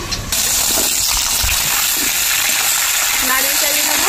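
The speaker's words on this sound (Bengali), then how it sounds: "এবার মাছ ভাজা একই তেলে ধুয়ে রাখা পেঁপেগুলি ভাজা করে নেব" Papaya pieces frying in hot oil that was just used to fry fish, a steady loud sizzling hiss that fills the whole clip after a brief quiet start.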